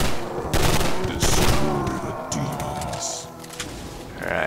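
Burst pistol gunfire in the Hells Reach video game, loud clustered bursts of shots firing in quick volleys among other game noise and impacts.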